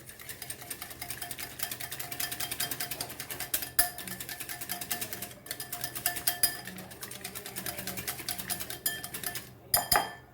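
A spoon or whisk beats a basil and rosemary marinade in a bowl, giving a steady, rapid run of close metallic clinks and scrapes for several seconds, with a couple of sharper knocks at the end.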